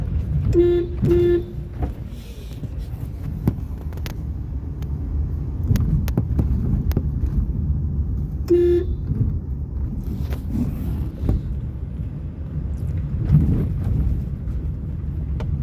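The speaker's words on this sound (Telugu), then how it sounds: "హారన్ కొట్టు." A car horn gives a few short honks, two quick ones then another later, over the steady rumble of a moving car.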